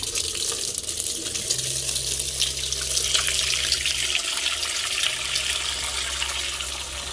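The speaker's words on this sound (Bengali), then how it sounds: "তো জল ভরে নেব, স্নান করার জল।" Tap water runs steadily into a container to fill it for bathing, a continuous near rush and splash with a low hum underneath, no voices.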